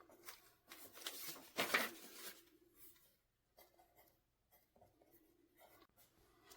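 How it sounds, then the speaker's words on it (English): A pen writes a stamp's location by hand on cardstock, with close, soft scratching strokes, one louder rustling burst early on, then quieter intermittent scribbles. "I'm just going to go ahead and write the location of this stamp"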